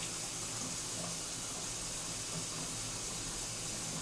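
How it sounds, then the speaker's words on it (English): Hot tap water runs steadily into a kitchen sink during handwashing while cooking, a constant close broadband hiss and splash with no break for the whole stretch. "I'm cooking, I'm washing my hands."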